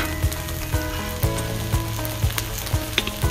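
Canned peas and carrots fry in rice on a griddle with a steady, close sizzle, while a spatula scrapes and taps the flat metal surface at a regular beat about twice a second.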